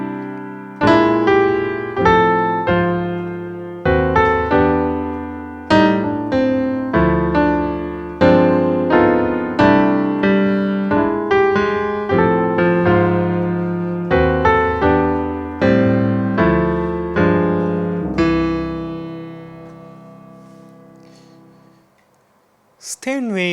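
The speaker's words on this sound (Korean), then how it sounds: "스테인웨이 그랜드 피아노를 먼저 여러분들께 들려드릴 건데요." A Steinway grand piano patch in Apple MainStage plays a solo passage of clear struck chords and melody with ringing sustain, loud and close, ending in a brief fade and a soft knock.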